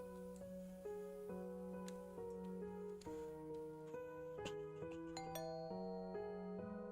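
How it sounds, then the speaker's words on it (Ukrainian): A doorbell chimes in the horror video game Fears to Fathom: Home Alone, a series of ringing tonal notes that step through a melody and sustain over a quiet, humming background, with no voices. "дзвонить у дзвоник"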